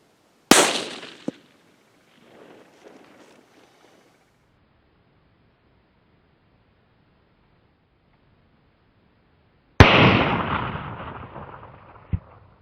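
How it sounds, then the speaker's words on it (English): Two sharp rifle reports from a .17 Winchester Super Mag firing a 25 grain bullet at a water jug 200 yards away, each a loud crack with a decaying echo, the first at the start and the second near the end, separated by quiet. "We'll be shooting the water jug on the right, distance 200 yards, using the Winchester Super Mag"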